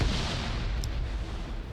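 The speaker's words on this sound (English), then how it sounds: "Nielsen instead goes for a frag grenade." A frag grenade detonates during a competitive 7v7 video game match, giving a rumbling, noisy blast that stays close and loud for the whole short stretch.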